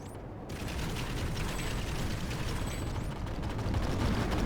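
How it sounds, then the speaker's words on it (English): Sustained, dense rattling gunfire from an enemy base in the game Planetside, loud and continuous throughout with a mechanical, crackling texture and no talk. "Yeah, that base is shooting us too."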